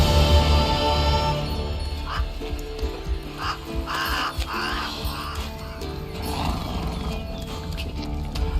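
Roach, Geralt's horse in The Witcher 3, gallops with rhythmic hoofbeats and snorts over an ambient soundscape, while crows caw at intervals in the distance.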